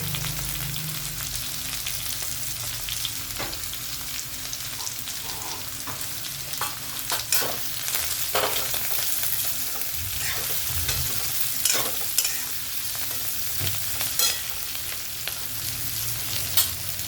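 Mixed green vegetables are stir-fried in a pan, with a continuous close sizzle and frequent scraping and tapping of a spatula against the metal that runs throughout.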